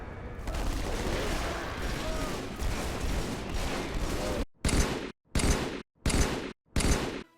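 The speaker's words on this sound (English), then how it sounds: "weapons like the battle rifle being given their Halo 2 anniversary sounds" Video game gunfire from Halo battle rifles with Halo 2 Anniversary sounds: a dense, continuous stretch of shooting, then four distinct, evenly spaced loud bursts separated by short silences.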